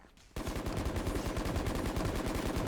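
Rapid automatic gunfire in the Valorant video game, a continuous rattling burst that kicks in abruptly after a brief quiet start and carries on steadily to the end, alone and fairly loud.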